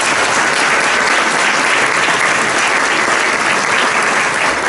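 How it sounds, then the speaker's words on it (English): A crowd at a Chicago event on neighborhood safety, held at the Standard Club, claps loudly and continuously for the serving staff, a thick, uniform burst of applause from start to finish. "please give our servers a round of applause."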